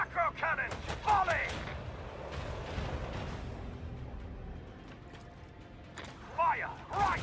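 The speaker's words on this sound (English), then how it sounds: "Macro cannons, volley!" Macro cannons fire a volley in the video game Rogue Trader. Heavy booming blasts and rumbling impacts come in bursts at the start and end, with a low rolling rumble between them.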